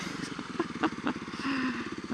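A police motorcycle rumbles past close by, its engine throbbing in a fast, even pulse over two seconds, with faint chatter and scattered clicks on top.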